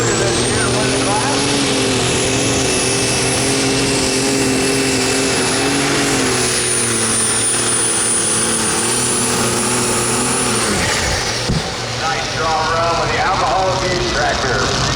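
A pulling tractor at the Seneca County Fair truck and tractor pull in Tiffin, Ohio roars loudly and steadily throughout, a continuous heavy engine drone with a high whine, under an announcer's commentary.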